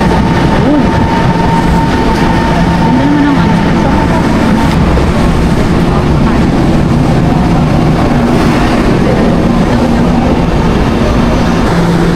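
Taipei MRT Green Line metro train near Songshan Station, a loud steady rumble of running carriages with a faint whine, continuous throughout while people talk nearby.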